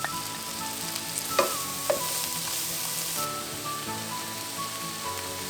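Mushrooms sauté in a pan with parsley, thyme and a generous amount of garlic, giving a steady close sizzle with two brief louder crackles early on.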